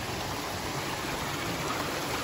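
Forest creek water rushing and babbling in a steady, even wash, moderately loud and close, with no voices.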